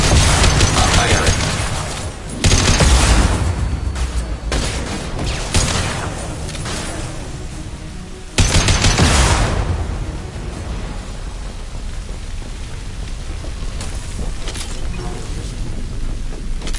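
Heavy weapons fire and booming blasts in the Mass Effect Legendary Edition game roar continuously at high level, with sharp surges near the start and again around the middle, with no talk.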